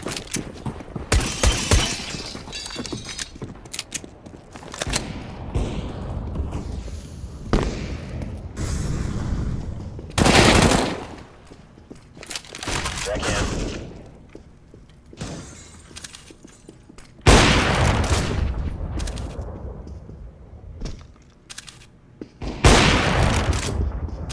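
Gunfire in the game Counter-Strike: Global Offensive, loud bursts of rapid shots and single cracks in several separate volleys, with quieter stretches of game ambience between them.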